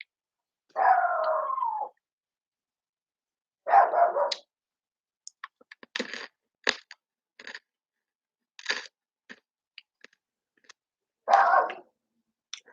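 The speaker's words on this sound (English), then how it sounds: "probably hearing some other dogs" Small indoor dog barking in several separate bursts, fairly close, with sharp clicks and taps scattered between the barks and no one speaking.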